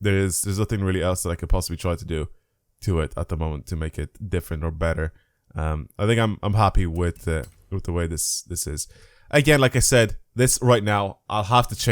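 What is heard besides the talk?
No everyday noises stand out.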